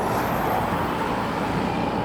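Cars pass along a road in Turkey on the drive from Lake Salda to Karahayıt, making a loud, continuous rush of traffic noise close by, with no voices.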